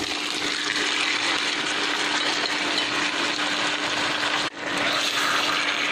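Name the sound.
marinated chicken added to frying pan with garlic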